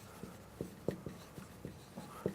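Marker or chalk tapping and stroking on a classroom board, about eight short soft strokes in an uneven rhythm, close and fairly quiet, with no one talking.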